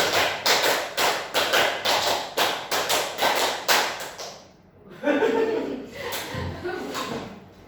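Students in a physics-education microteaching class clap together in a steady counted pattern of repeated quick claps, loud and roomy, then break off into murmuring voices and a few scattered later claps.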